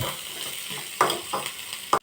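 Boiled potato pieces sauté in a pan over a high gas flame for crispy cutlets, giving a steady close sizzle. A few sharper scraping bursts mark stirring, and no one talks.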